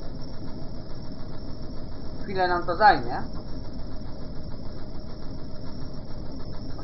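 A tractor engine idles in Farming Simulator 2013 with a steady, even mid-pitched hum throughout, while someone speaks briefly over it.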